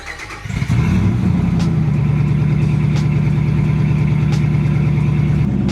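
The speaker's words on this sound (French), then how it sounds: "tu veux toujours écouter le bon son, le bon bruit du V8. Alors on va le démarrer et écoute-moi ça" 2020 Dodge Ram pickup V8 engine cranks and fires after a brief quiet moment, then settles into a loud, steady, rumbling idle close by.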